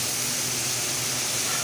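Water poured onto spiced chana dal in a hot pan for a dhaba-style tadka gives a steady, dense hiss of sizzling steam, loud and unbroken throughout, with no voices.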